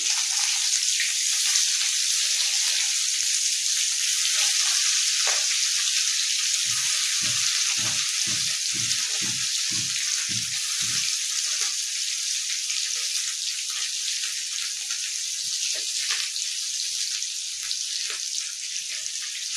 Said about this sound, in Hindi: आब कड़ू तेल गरमा गेलै। आ ओहिमे एक-एकटा पप्पा माछ दऽ देबै।